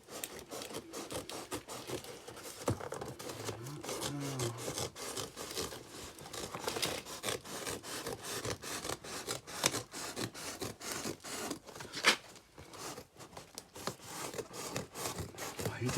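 A slightly crushed cardboard parcel holding a car ragtop is cut open with scraping, rasping strokes and rustling, steady close scratching throughout at moderate level.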